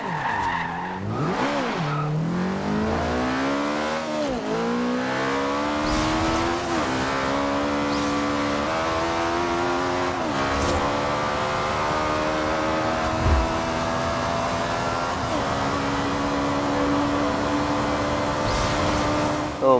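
Alfa Romeo 4C engine in Forza Horizon 2 revving and rising through the gears over nearly twenty seconds, loud and close, with a steady drone, repeated pitch climbs and brief tire-skid squeals.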